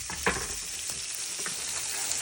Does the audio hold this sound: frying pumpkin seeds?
yes